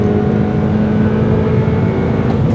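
Honda Civic VIII petrol engine pulling hard after a downshift, a loud continuous close-up drone with steady rising engine note, heard from inside the car with no talking.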